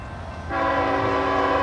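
A CSX freight train approaches and sounds its horn, a sudden loud sustained chord that cuts in after a brief moment of low rumble and holds to the end.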